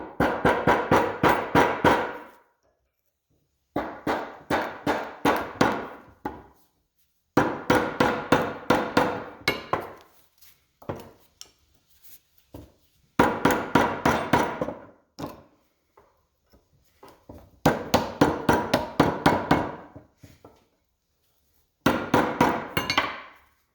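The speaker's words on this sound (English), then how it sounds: "use a putty knife to get in behind here first, and then we'll move to a screwdriver." Repeated bursts of metallic prying and tapping as a putty knife and screwdriver work a brake part loose on a 2006 Duramax truck during a Power Stop brake install, loud and close, coming in rhythmic clusters separated by short pauses.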